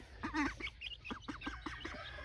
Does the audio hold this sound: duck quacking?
yes